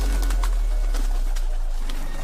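A cartoon magic bird coos like a dove, soft repeated throaty calls over a low steady hum, with no talking.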